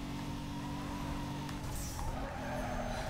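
The tires of a Lancia Stratos skid under hard braking during a racing lap in Need for Speed: Most Wanted, a steady squeal over the engine drone that lasts the whole stretch.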